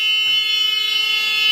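A loud, steady electronic alarm tone from a school bus emergency exit door, set off by raising the handle. It sounds continuously and alone, with a brief low thump as the handle moves.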